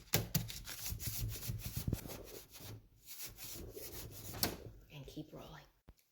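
Cinnamon roll dough is rolled by hand on a wooden board, giving soft rubbing and scraping strokes with occasional light knocks, while people talk over it.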